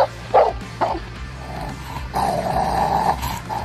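A Rottweiler growls and gives several sharp, close barks in short bursts, followed by a sustained deep growl.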